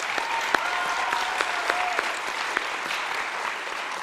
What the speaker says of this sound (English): Let us all give Sahiti and Shravani's guru and the accompanying musicians another round of applause.